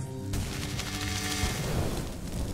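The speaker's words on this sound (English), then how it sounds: "Try this now by shooting a firebolt at the fire enemy" Firebolt shot in the VR rail shooter Dexed: a sudden whooshing, crackling burst of fire that starts abruptly and roars on, loud and close, with a hissing, rumbling tail.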